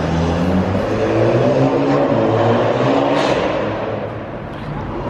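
A Toyota Supra at a car meet near a mansion, its engine droning and revving close by in a steady, loud, rumbling tone that eases slightly toward the end.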